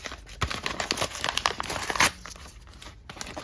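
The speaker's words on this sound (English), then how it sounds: "We can go ahead and rip open this envelope" Paper envelope being ripped open, a busy run of crinkling and crackling with one sharper tearing burst midway, close and fairly loud with no talking.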